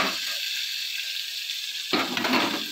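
Ground masala paste sautéing in a pan, a steady hissing sizzle that suddenly grows fuller and rougher near the end as the paste is stirred.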